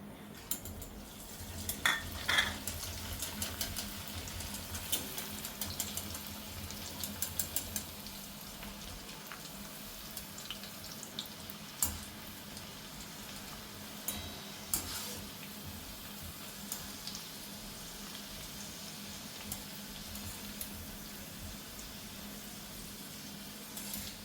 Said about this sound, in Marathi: त्यामध्येच आपण हे काजू आणि मनुका टाकून घेणार आहोत